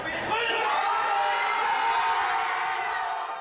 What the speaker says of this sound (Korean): 손흥민 선수가 찬 공이 골망을 흔들자 환호성이 터져나옵니다.